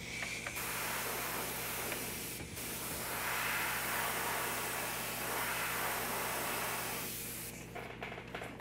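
Airbrush paint hissing steadily onto a 1/4 scale Aquaman figure as shading is applied, a continuous close spray with a few short pauses and sputters near the end.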